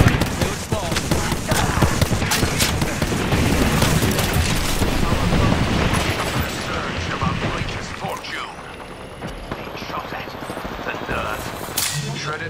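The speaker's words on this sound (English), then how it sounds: "Getting shot at." Rapid, sustained gunfire in a futuristic shooter video game, dense bursts and booming impacts for most of the stretch before easing off, with a voice speaking under the action.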